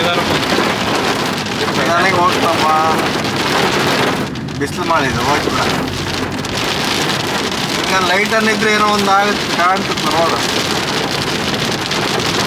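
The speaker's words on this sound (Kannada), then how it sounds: "ದೊಡ್ಡ ಹನಿಗಳಾಗಿ ಮಳೆ ಅನ್ನೋದು ಬೀಳಕ್ಕೆ ಸ್ಟಾರ್ಟ್ ಆಯಿತು" Heavy rain with big drops pounds steadily on a vehicle during a road journey amid strong winds, loud and continuous throughout, while people talk over it.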